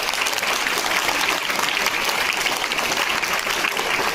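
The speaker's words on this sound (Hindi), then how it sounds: "आपके पेरेंट्स के लिए भी एक ताली बजनी चाहिए।" Steady, dense applause from a school festival audience honoring the parents, loud and continuous throughout with no voices standing out.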